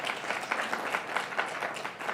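Audience applause at a school board of education meeting, steady dense clapping from a crowd throughout, moderately loud and slightly distant in the room.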